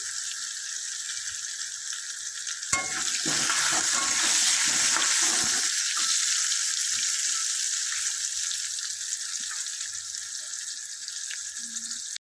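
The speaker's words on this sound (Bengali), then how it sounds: "এবার আলুটা ভেজে নেব।" Sliced potatoes fry in hot oil in a pan with salt, giving a loud, steady sizzle that swells as they go in and then settles into a continuous crackle.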